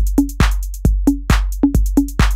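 Techno drum beat programmed in Ableton: punchy, booming kicks with long low tails, interleaved with short tonal hits in a tight, repeating groove, loud and dry with no voices.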